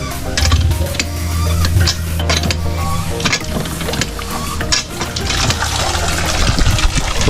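Tap water pours into a tub used as a bathing pool for ducks, a continuous splashing gush with fluctuating bursts and occasional knocks, heard close up without talk.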